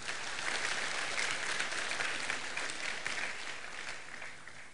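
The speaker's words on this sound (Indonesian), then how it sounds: "Tepuk tangan yang dahsyat." Loud, sustained applause from a church audience, a dense wash of clapping hands that holds steady and then eases slightly toward the end.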